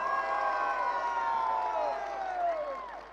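Crowd at a large crypto currency event cheering and whooping, with shrill sustained shouts rising and falling together for about three seconds, loud and dense, then fading slightly.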